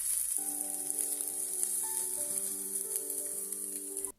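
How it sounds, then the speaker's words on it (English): Chopped onion sizzles in shimmering olive oil in a skillet, a continuous bright crackling hiss, close and even, with a steady tone humming underneath and no talk. "toss in the onion and cook for 2 to 3 minutes"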